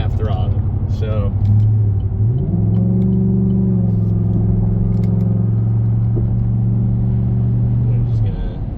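A 2018 Chevrolet Silverado 1500 LT Z71 cruises in traffic at highway speed, with a steady low engine drone and road rumble that shifts pitch once partway through, under continuous talk in the cab.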